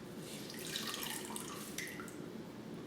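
A washcloth soaked in warm water is wrung out close by, releasing a soft trickle and patter of dripping water into a basin that continues steadily.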